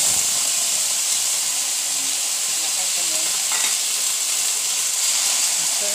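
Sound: bitter gourd frying in hot oil in a pan

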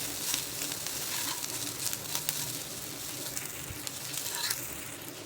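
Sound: sautéing coriander in tempering oil

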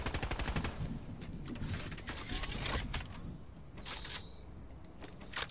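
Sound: gunfire in a VR battle royale video game

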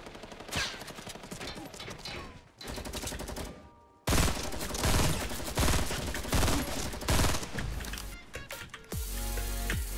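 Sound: light machine gun firing in Fortnite video game

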